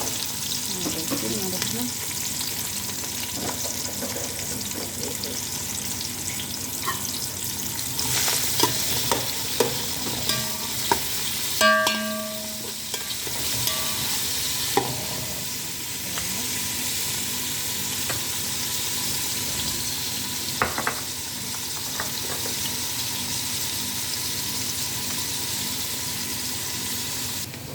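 Long-sliced onion sizzles steadily in hot oil over the whole stretch, with a few stirring clinks and scrapes near the middle and a brief spoken phrase.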